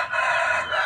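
A pet rooster crows once, a single loud, close, sustained cock-a-doodle-doo heard on its own with no voices.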